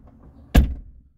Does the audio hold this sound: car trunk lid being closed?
yes